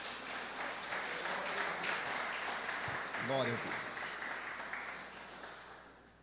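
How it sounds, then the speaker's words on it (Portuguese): A church congregation applauds after a Bible reading, steady clapping that gradually fades out, with a voice speaking briefly over it. "Você pode aplaudir o Senhor por esta palavra?"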